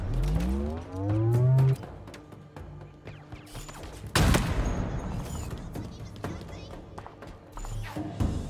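An Elite firing at the player in Halo Infinite: sharp weapon blasts and a heavy impact crash among whooping sci-fi effects, loud and close, mixed with other game sounds.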